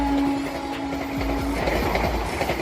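A Vande Bharat Express train at Udgir railway station rumbles steadily close by, with a faint whine and wheels clicking over rail joints, and no voices.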